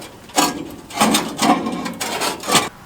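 Wrenches working a stuck part loose under a Ducati D21, sounding as four or five rasping, grinding metal strokes at an even rhythm, close and moderately loud.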